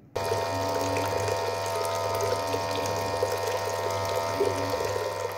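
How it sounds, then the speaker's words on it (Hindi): An electric water dispenser pump runs continuously while transferring water into a cooler, giving a loud steady mechanical hum and whine with gurgling water, close by and uninterrupted. "इस वाटर डिस्पेंसर की फिलहाल आप इसकी आवाज़ देखें"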